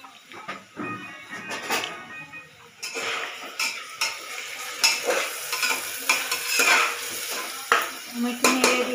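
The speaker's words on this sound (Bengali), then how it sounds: "আমি একটু নেড়ে দিলাম।" A spoon stirs pulao ingredients, carrots and raisins frying in a pot, with repeated scraping and clinking against the metal under a steady sizzle, close and fairly loud.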